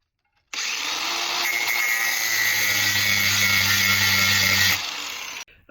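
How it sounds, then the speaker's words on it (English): A close, loud angle grinder cuts a notch into the head of a screw, whining steadily for about four seconds before spinning down to silence. "We're going to take the grinder and we're going to grind a notch into here."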